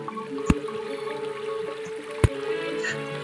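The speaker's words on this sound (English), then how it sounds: "Cute little waterfall." Small waterfall in the video game Terraria, a steady soft rush of flowing water with two brief sharp clicks from game effects.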